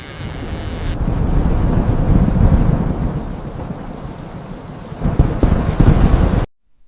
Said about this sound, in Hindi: और तेज आंधी।